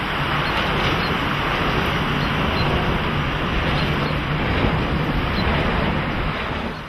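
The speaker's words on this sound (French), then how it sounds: "Ensuite, vous avez le bruit moteur. Et le bruit moteur, ça ressemble plus à un avion qui passe en altitude." A wind turbine's blades and motor give a steady broadband whooshing roar with a continuous low hum underneath, even and unbroken throughout, heard alone without voices.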